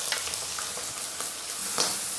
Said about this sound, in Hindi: तो इनको थोड़ा सा फ्राई कर लेंगे।